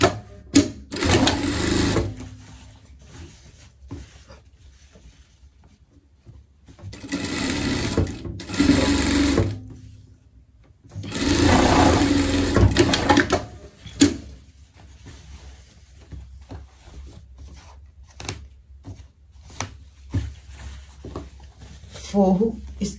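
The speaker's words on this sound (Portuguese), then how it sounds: "Mesma coisa do outro lado, costura, costura. Costura debaixo do braço," Sewing machine stitching the underarm seam of a Swiss-style fashion pet coat, three loud runs of buzzing motor and needle chatter separated by quieter handling, heard up close.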